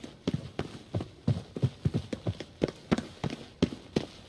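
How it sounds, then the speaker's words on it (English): Footsteps in The Witcher 3 sound as a steady run of about a dozen soft, thudding treads that approach at an even walking pace, clear and moderately close against a quiet background. "Footsteps."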